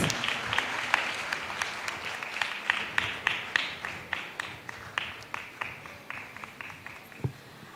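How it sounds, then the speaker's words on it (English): An audience at a public meeting in a church hall gives a round of applause, dense clapping from many hands that thins to a few scattered claps near the end, fairly distant and moderate in level. "Please give him a loud round of applause."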